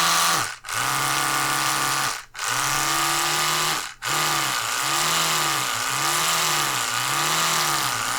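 An electric toothbrush whirs steadily and loudly, cutting out briefly three times early on before running continuously with a slightly wavering, pulsing hum.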